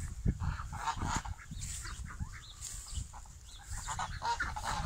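Several chickens cluck and squawk in a loose, overlapping jumble, moderately close, with outdoor background noise throughout.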